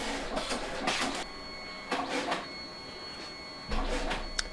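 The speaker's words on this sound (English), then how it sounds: "This printer is almost about done." A photo printer working through a large batch of pictures, with repeated whirring feed passes and mechanical clicks in an uneven rhythm, close and steady with no talk.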